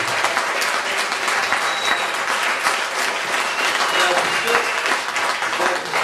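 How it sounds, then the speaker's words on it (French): Steady, dense applause from an audience at a school theatre event as a certificate is handed out, continuous clapping filling the room for several seconds. "l'applaudit fort pour son certificat de gagner"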